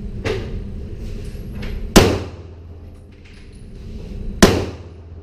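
Gunshots at a target practice range, heard as two sharp, loud close reports a few seconds apart, with a fainter pop near the start and a low background hum between them.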